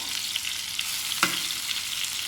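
Crumbed chicken parma fries in oil in a pan with a steady, close hiss and sizzle and one brief scrape or clatter partway through.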